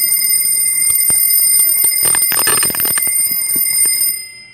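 A Casio TQ-362 quartz alarm clock rings loud and close, a continuous rapid metallic trill for about four seconds before it cuts off.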